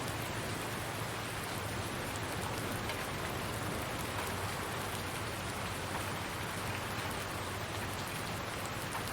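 Steady, even rain falls in the Farming Simulator 19 game world, a continuous soft hiss of drops on surfaces with no voices and no pauses.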